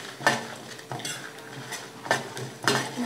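Dried red chillies and coconut pieces frying in a pan, with repeated metallic clanks and scrapes of a spatula stirring against the pan over a faint sizzle.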